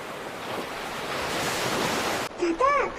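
Ocean surf in an animated series washes in as a steady broad roar of waves with wind noise, then cuts off abruptly and a short cartoon sound effect follows.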